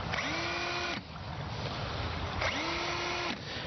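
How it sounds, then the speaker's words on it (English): A power drill bores holes for the eyes and nose in a carved pumpkin face. Two steady whirring bursts each spin up to a high whine, hold for about a second, then stop, close and loud with no talk. "the last step of our adult process is to drill the holes in the face of the pumpkin"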